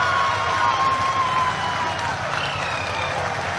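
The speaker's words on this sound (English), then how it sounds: "People are applauding." A crowd applauding during a space-mission broadcast, a steady wash of clapping and murmur that holds at even loudness throughout, with a faint tone early on.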